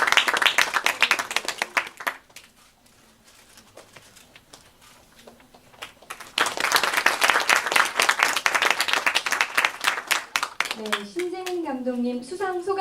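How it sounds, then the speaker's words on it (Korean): An audience at a film festival closing ceremony claps in a burst, fades to quiet, then breaks into a second, stronger round of applause with a voice speaking near the end. "큰 박수 부탁드리겠습니다"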